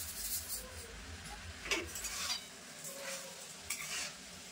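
Grated carrot halwa with sugar is stirred in a pan, a spoon scraping and pushing the mixture in repeated strokes over a low sizzle, with no one speaking.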